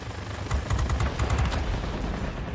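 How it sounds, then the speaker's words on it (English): Rapid bursts of P-51K machine gun fire in the World of Warplanes air combat game, a dense rattling volley over a constant engine drone, loud and close, with no talking. "destroy it, get a few shots in another one"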